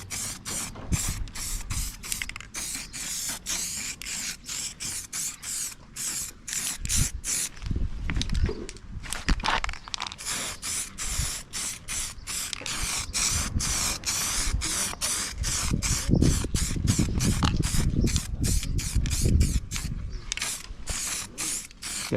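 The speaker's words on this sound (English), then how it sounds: "Let's get this primer on. Let's get that light coat on." A spray can lays a light coat of grey primer on the valve covers of a Nissan Micra K11, bursts of close hissing spray with short gaps and a rattling can between passes.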